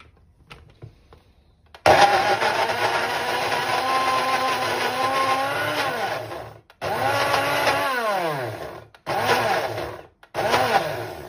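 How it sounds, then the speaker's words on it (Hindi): A kitchen blender whirs into mango puree after a few faint clicks, running loud and close with a whining motor pitch that sags, then cuts out and restarts in shorter bursts. "इसको ब्लेंड कर लेते हैं।"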